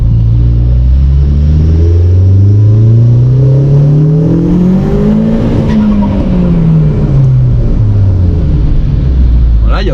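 Inside a Volkswagen Golf being driven after a turbo fire, the engine drones loud and close, its pitch climbing smoothly through the revs, easing back, then rising again, with road rumble underneath.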